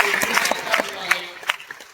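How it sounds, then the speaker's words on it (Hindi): A large crowd at a live public gathering claps for a child, a short burst of scattered, uneven hand claps with some crowd noise, close and moderately loud. "उसके लिए एक बार जोरदार तालियां बजाइए"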